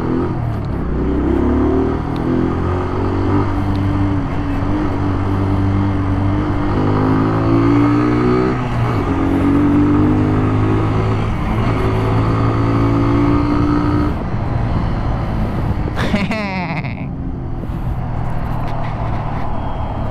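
Kawasaki Z125 Pro SE 2020 motorcycle ridden at full throttle, its engine note climbing steadily through the gears, loud and close with constant wind rush and a brief high squeal near the end.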